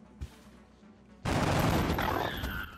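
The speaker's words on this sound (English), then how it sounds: "it's time for everyone else to start firing wildly" Sustained gunfire in a turn-based tactical squad game, a faint thump, a short pause, then a loud abrupt barrage of rapid overlapping shots that holds steady and begins to taper, with no talking.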